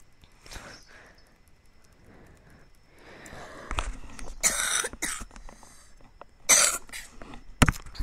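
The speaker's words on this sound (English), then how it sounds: "I still have my cough." Several harsh coughs burst out in a quiet room, loud and close, with clusters around the middle and end, from a person who has had a lingering cough for weeks.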